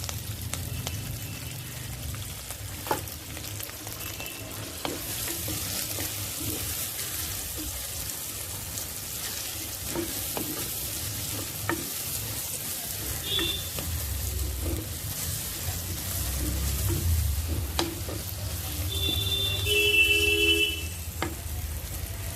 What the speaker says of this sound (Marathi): कांदा घालूया आपण आणि त्याचसोबत कोथिंबीर घालूया